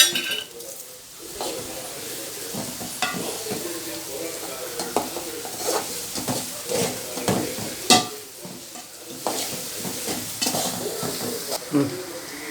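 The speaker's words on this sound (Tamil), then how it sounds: "இப்போ அதையும் நல்லா வதக்கி விட்டுக்கலாம்" Food sautés in a pan with chilli powder just added: a busy sizzle broken by repeated scraping and clinking strokes of a spatula against the pan, close and fairly loud.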